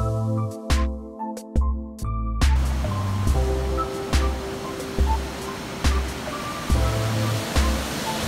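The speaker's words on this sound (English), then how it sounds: "check out this amazing waterfall" Waterfall on the Cross River near Duluth: a steady, full rush of falling water fills the whole clip. Short musical tones and thumps repeat over it at a regular pulse.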